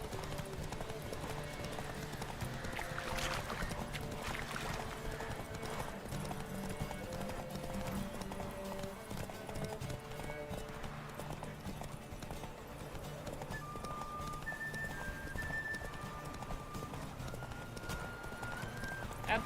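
Rapid, continuous hoofbeats of a galloping horse in The Witcher 3: Wild Hunt over a busy game soundscape with music, steady and close throughout.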